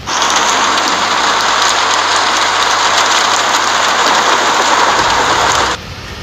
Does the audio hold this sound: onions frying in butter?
no